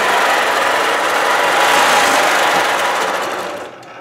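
A sewing machine stitches quilting lines along a crosshatch ruler, running in a fast, continuous buzzing whir close up, then slowing and quieting near the end, with no speech.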